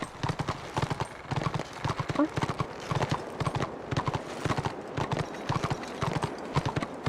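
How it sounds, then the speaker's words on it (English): Horse hooves clip-clopping in a video game, a brisk steady rhythm of close, clear hoofbeats continuing throughout. "Oh, horsey!"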